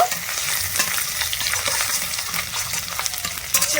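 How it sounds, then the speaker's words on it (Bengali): Tempering spices with grated ginger fry in oil and are stirred lightly. The result is a close, even crackling sizzle with small irregular pops throughout, and nobody talks. "ফোড়নটা একটু হালকা করে নেড়ে ছেড়ে একটু ভেজে নেব"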